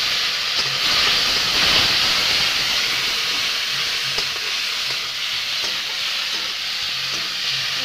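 Onion, chili paste and garlic frying in a pan for a mustard snakehead fish curry, a loud, dense, continuous sizzle and hiss with faint stirring clicks, close up and steady throughout.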